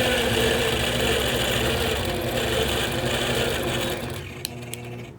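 A longarm quilting machine stitches steadily with a loud, continuous mechanical hum for about four seconds, then winds down and fades to near silence.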